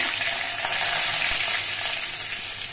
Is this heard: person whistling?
no